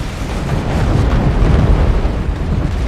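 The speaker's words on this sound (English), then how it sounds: "one nuke coming through again" A nuke detonates in an FPL video game match, a loud sustained roaring blast rumbling heavily for a few seconds with no voices over it.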